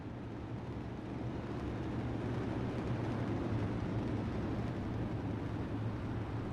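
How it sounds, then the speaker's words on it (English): UMP modified race cars idling on low revs behind a pace truck at Limaland, a dense steady rumble of several engines with a low drone throughout and no clear distinct bangs standing out. "Just gotta love these things on barely any revs, just the crackling and banging from them all"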